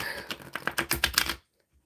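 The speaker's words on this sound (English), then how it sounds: "I am shuffling the tarot now" Tarot cards shuffle up close in a quick series of soft, papery clicks and riffles that stop abruptly into silence.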